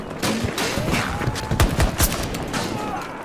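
Shotgun blasts in a video game come as a rapid cluster of sharp, loud bangs in quick succession, close and punchy over background game noise.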